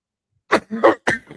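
Three quick, rough coughs in close succession, near and fairly loud, after a moment of silence.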